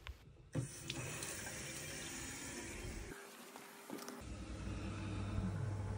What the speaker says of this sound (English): Let's go open a hot tap.